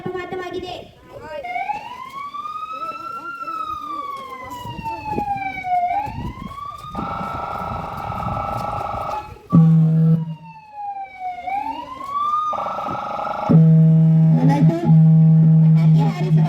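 Wailing ambulance siren rising and falling in long sweeps, then switching to a fast yelp pattern and a steady tone, loud and close, with voices talking over it at a playground where a firecracker accident has happened.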